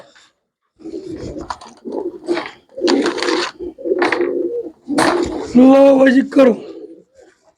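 White pigeons, among others at a pigeon sale, give a low throaty coo near the end, close by, under steady talking from a man handling the birds.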